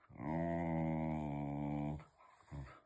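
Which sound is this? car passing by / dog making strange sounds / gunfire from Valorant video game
dog making strange sounds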